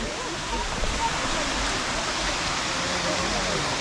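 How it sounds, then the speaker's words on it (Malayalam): A waterfall in Kodaikanal sends up a steady, loud, broadband rush of falling water that fills the whole stretch without pause, with faint voices barely present beneath it. "അടിയിൽ വെള്ളമൊക്കെ ചാടുന്നുണ്ട്"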